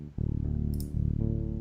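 A bass guitar direct-input signal with most frequencies cut away by heavy EQ leaves a dull, thin low tone, two sustained notes with a brief click between them and no voices.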